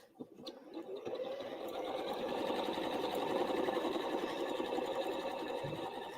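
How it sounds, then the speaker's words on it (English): A sewing machine runs steadily while quilting straight lines down a patch of a scrappy place mat, a continuous close mechanical whir that starts after a brief clatter and holds an even rhythm throughout. "I'm going to go ahead and quilt down with lines this first patch"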